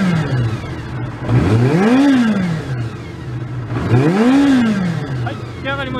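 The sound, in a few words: motorcycle engine starting and revving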